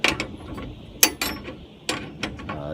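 Ratchet wrench tightening bolts on a chainsaw mill, a few quick clicking pawl bursts with pauses between, close up and alone.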